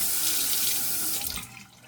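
Water runs steadily from a tap into a sink during a rinse, a loud continuous rushing wash that thins and fades toward the end.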